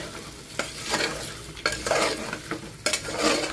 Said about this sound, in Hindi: अरवी डाल के हम भूनेंगे थोड़ी देर ऑयल में।